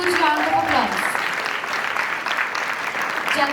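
A crowd applauds at a startup competition, steady clapping filling the room for several seconds, with a voice speaking briefly at the very start.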